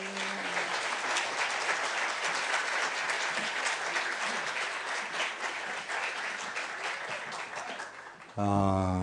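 A church congregation applauds to welcome a visiting pastor, with dense, steady clapping filling the room for about eight seconds before it cuts off abruptly.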